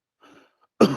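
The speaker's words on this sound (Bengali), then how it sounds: "পেশেন্ট একটা জোরে শ্বাস নেয়, নিয়ে একটা সিঙ্গেল কাশি দেয়" A single loud, explosive cough follows a short, audible deep breath, demonstrating a patient's typical cough; the breath is soft and brief, and the cough bursts out sharply and close at the end.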